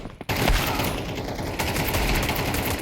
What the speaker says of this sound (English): Lots of gunfights are coming out onto the mid side